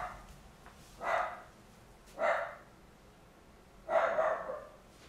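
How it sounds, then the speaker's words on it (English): Three separate dog barks spaced about a second apart, moderately distant, with quiet background between them. "He'll stop barking soon."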